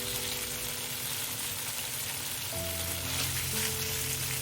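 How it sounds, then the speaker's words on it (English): Tofu pieces frying in oil in a pan, a dense, continuous close sizzle with a faint steady hum joining partway through. "flip the pieces and cook the other side till it becomes golden too"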